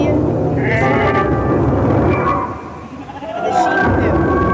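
Sheep bleat at night in rural Australia, with several loud, wavering cries close by over a rough, steady background noise.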